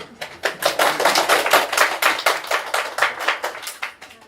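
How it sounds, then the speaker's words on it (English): Audience clapping at an independent publishers' panel talk hosted by an art archive: dense, steady applause from a room of people, fairly loud, with rapid overlapping claps that stay even for a few seconds before thinning slightly. "Give her a big round of applause"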